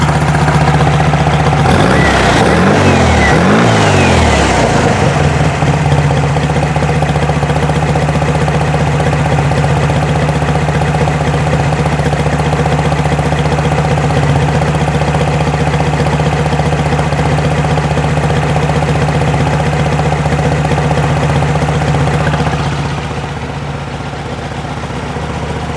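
A 1972 VW Beetle air-cooled engine with dual carburetors idles steadily at close range, a loud continuous rumble with a brief rev or clatter early on, then settling into an even hum.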